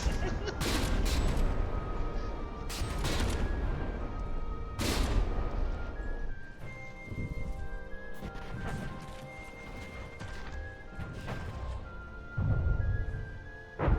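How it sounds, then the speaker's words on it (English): Warship turret guns fire in the From the Depths naval game, sharp booming blasts and crashes scattered irregularly across the span, with someone talking over them. "the turrets firing, like the guns firing, is just ridiculous"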